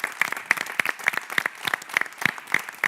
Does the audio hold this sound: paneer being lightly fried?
no